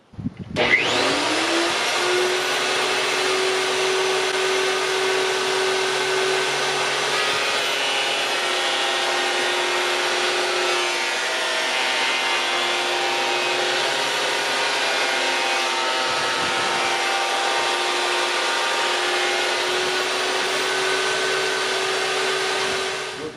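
A VEVOR benchtop planer runs steadily and loudly as wood pieces are fed through it, a continuous high motor whine with cutting roar lasting throughout, briefly dipping in pitch partway as a board passes.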